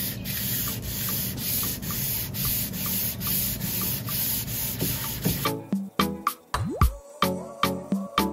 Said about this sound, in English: So I'm just going to attach this. Give it a really fine sand.